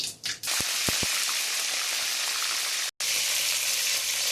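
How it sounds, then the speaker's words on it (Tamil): Eggplant frying in hot oil in a pan, a steady loud sizzle with a few short crackles near the start and a brief break near the end. "நல்லா வதங்கட்டும். எண்ணெயிலே குக் ஆகணுங்க எண்ணெய் கத்திரிக்காய்."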